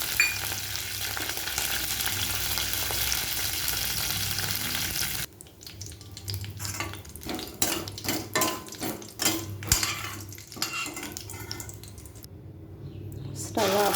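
Curry leaves and dried red chillies fry in hot oil for a coconut chutney tempering, a loud steady sizzle that drops away midway into crackling pops, clatter and stirring knocks.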